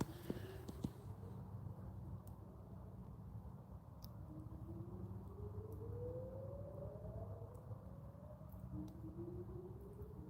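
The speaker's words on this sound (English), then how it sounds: "it's definitely like a warning siren" A distant warning siren drifts through the woods, rising in long, faint slow sweeps that repeat several times over a low, steady background rumble.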